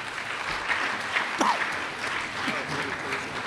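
A roomful of people applauds at a high school sports banquet, steady mid-level clapping throughout with a brief voice or whistle rising above it.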